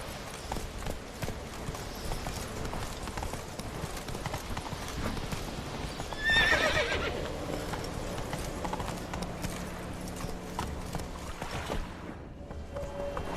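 Hooves clip-clop in a steady rapid gallop from a horse in The Witcher 3 video game, continuous throughout with a brief whinny-like burst midway, faint quiet speech underneath.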